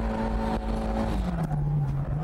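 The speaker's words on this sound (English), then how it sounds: "Shift down and put the pedal to the metal." A Toyota AE86 pulls hard after a downshift, its engine note holding a steady drone then dipping and settling as it accelerates, loud and close with no talking.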